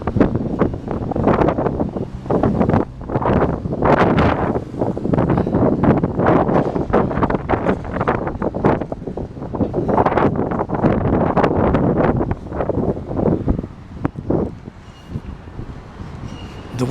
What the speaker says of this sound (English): The wind has picked up, now it has died down.